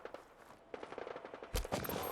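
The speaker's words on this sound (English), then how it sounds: "there's gunfire" Bursts of gunfire from the video game Fallout 4: a quieter string of shots, then a loud, heavier volley near the end, with rapid repeated cracks like automatic fire.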